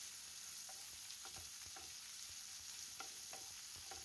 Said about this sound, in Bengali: এরপর কেটে রাখা পেঁয়াজের কুচিগুলো দিয়ে দিলাম, দিয়ে একটু ভালোভাবে নাড়াচাড়া করে ভেজে নেব।